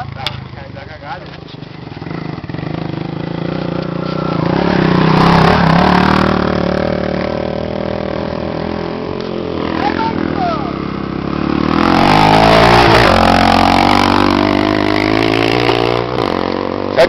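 A motorcycle engine running on a dirt track, loud and close, its pitch climbing and falling through two long rev surges, while people talk over it.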